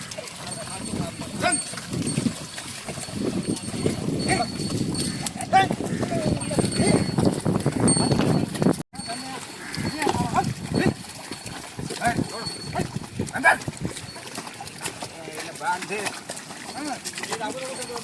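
Heavy sloshing and squelching of six oxen's hooves trampling wet mud in a paddy field, continuous and close, with people talking over it throughout.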